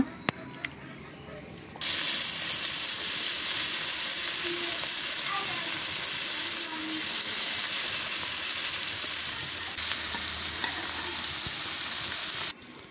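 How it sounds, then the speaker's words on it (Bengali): Small baim fish coated in turmeric, chili and coriander fry in hot oil with a loud, steady sizzle that starts abruptly and holds for about ten seconds before easing off. "হলুদ মরিচ ধনিয়া দিয়ে মাছটা মাখিয়ে তারপর ভেজে নেব"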